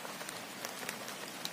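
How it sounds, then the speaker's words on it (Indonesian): Rain falling outdoors, a faint, even hiss of drops pattering on a surface, with a few slightly sharper drop ticks scattered through. "Ini hujan lagi guys, baru jalan padahal cuman 500 meter dari rumah udah hujan."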